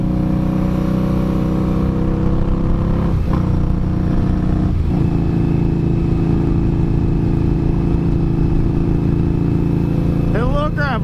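A motorcycle engine hums steadily while riding through a small town in Kentucky, a close, continuous drone with occasional shifts, under heavy wind and a few brief voice sounds.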